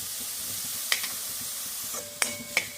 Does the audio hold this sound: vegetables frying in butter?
yes